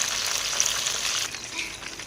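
KFC-style chicken leg pieces frying in hot oil, a close, steady bubbling sizzle that holds without pause.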